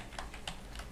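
Three or four quiet keystrokes land on a computer keyboard in a brief, faint burst of typing with no voices.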